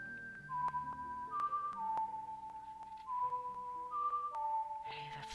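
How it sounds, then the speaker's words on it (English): A clear whistled lullaby melody from the Zelda Ocarina of Time video game, a slow sequence of sustained tones over quiet game music, with no speech. "Now listen carefully as she whistles it."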